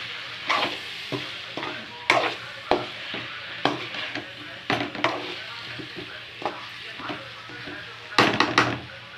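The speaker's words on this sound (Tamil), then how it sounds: "இந்த காரம் இந்த மிளகாத்தூள் வாசனை போகிற வரைக்கும் நம்ம வதக்கி வச்சுக்கலாம்" Chili powder sautés in a pan for brinjal kara kuzhambu over a low flame, with a faint sizzle broken by repeated scraping stirs of a spoon against the pan, each stroke a distinct close scrape.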